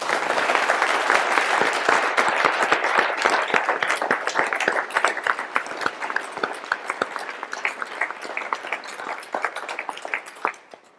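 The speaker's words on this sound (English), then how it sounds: "A round of applause for our panel." Dense, loud applause from an audience after a panel discussion, sustained claps that thin out gradually toward the end.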